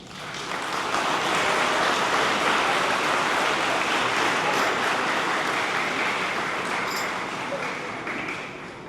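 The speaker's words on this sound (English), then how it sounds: "Give them a round of applause, please." A school spring concert audience gives a round of applause for the school board, administration, faculty and staff, sustained steady clapping filling the hall for nearly nine seconds before tapering off.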